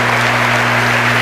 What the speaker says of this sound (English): You hear the crowd clap in the background